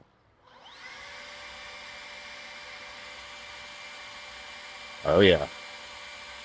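A leaf blower blasts air into the vent of a Blaze Kamado grill, a steady close whine with a rising start and a brief louder burst near the end, while a voice speaks briefly.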